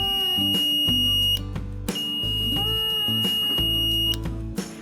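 An active buzzer wired to an Arduino beeps in a steady on-off pattern, giving loud, sustained electronic tones with short gaps between them and no voices.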